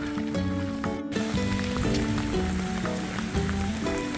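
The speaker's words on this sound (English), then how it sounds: "So it's a good day even though it's still raining." Rain falls steadily during a morning walk, a dense close patter and drip layered with scattered tonal background sounds.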